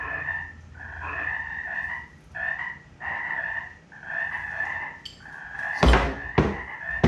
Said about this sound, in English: you see the frogs can hear me trying to speak, so they got to get louder